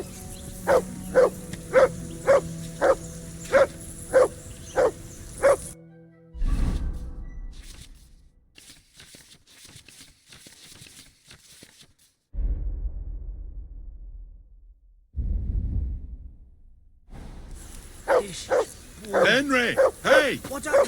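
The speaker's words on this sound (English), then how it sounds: "call that dog to heel" Dog barking in the Kingdom Come: Deliverance II video game, a run of evenly spaced barks in the opening seconds, with game speech, music and effects later and a further burst of barks near the end.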